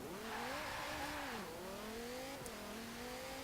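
A 2018 Ford #25 Mustang RTR in Forza Horizon 4 accelerates hard, its engine note climbing steadily through gear changes with a brief dip, loud and continuous without talk.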